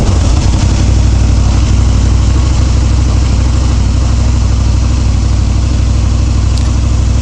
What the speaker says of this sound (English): Bike is on.